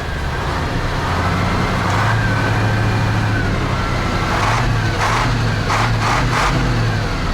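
Ural 4320 truck engine idling steadily after its first start out of storage, a loud continuous diesel rumble with a few brief rising revs near the end, no voices.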